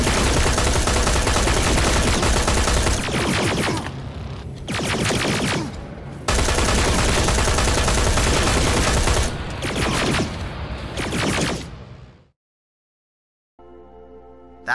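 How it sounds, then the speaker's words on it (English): Sustained bursts of automatic rifle fire in the Terminator Resistance video game, loud and dense, in several long volleys broken by short gaps, then a pause before a quieter clicking tail. "That type of automatic rifle won't do a damn thing for you on this game here."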